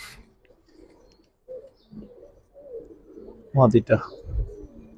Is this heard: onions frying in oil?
no